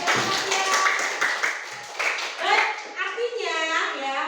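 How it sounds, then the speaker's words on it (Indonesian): Schoolchildren in a classroom clap for a classmate named Fatia, a brisk burst of applause. Children's voices and chatter overlap it and take over toward the end. "Oke, kasih tepuk tangan dulu untuk Fatia."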